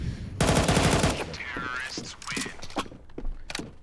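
Pistol gunfire during a professional Counter-Strike esports match: a rapid, loud burst of shots followed by scattered game sounds while commentators talk over it.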